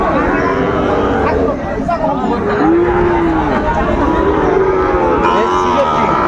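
Sahiwal cattle moo several times in drawn-out, falling calls at a busy livestock market in Chattogram, with steady crowd chatter and nearby voices running underneath throughout.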